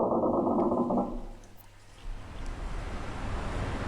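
In a video game, a grinding mechanical rumble as a drainage bar is cranked, followed by a rising wash of rushing noise like water beginning to flow.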